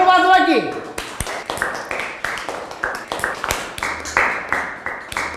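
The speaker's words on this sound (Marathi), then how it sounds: "अरे टाळ्या तर वाजवा की." Several people clapping in a classroom, quick uneven claps that repeat steadily for a few seconds, close and fairly loud, with no talk over them.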